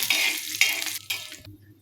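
Cashews and almonds are lightly fried in a pan on low gas, with a short, soft sizzle and stirring scrapes that break off into silence near the end.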